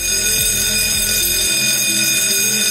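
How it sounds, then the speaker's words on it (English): A fire alarm bell rings in a plant, a loud continuous metallic ringing with a harsh buzz that holds steady from start to finish, close and alone with no voices. "the fire alarm bell will be ringing."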